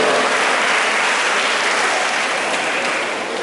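Children applaud their camp instructors at a church gathering, a loud, steady wash of clapping from a large group that fills the whole stretch without talk.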